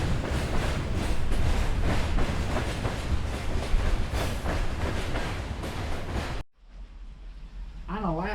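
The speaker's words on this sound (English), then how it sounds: "We're pausing for the train to go by. So train coming by in Brunswick." A train rumbles past close by in Brunswick with rhythmic clatter of wheels on track for several seconds, then it cuts to quiet with a faint voice.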